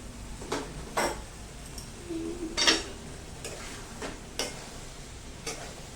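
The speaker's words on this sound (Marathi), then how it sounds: "भाजी छान हलवून घ्यायची आपल्याला" Cauliflower and peas being stirred in a pan for a quick tiffin vegetable dish: a few scattered spoon scrapes and knocks over a faint, steady background hiss, with no talk.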